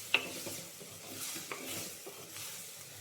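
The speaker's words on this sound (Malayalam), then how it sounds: "ഈ പൊടികളൊക്കെ ഒന്ന് മൂക്കുന്ന വരെ ഒന്ന് ഇളക്കുക." A spoon stirs spice powders in a hot pan for an okra and lentil curry with mango, soft scraping strokes over a steady gentle sizzle, close and fairly quiet.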